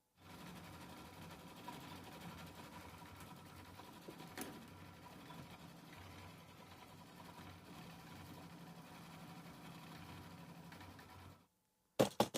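A sewing machine runs steadily through machine quilting of background fill on a block held in a hoop, a continuous mid-level motor whir with needle chatter lasting about eleven seconds before stopping abruptly, followed by a couple of sharp clicks.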